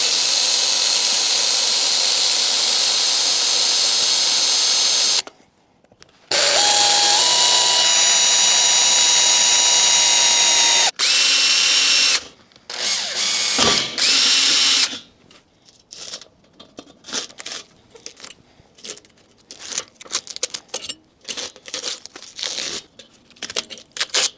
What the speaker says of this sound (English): just using a 2mm drill bit, I'll mark and drill those holes